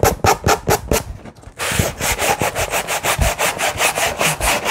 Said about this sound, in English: It really does take off the rough edges, as a sanding block should.